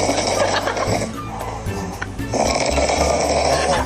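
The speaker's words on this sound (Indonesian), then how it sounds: "Suara orang ngorok." A sleeping person snores in long, rasping breaths, two extended rumbling snores that fill the clip loudly and close up.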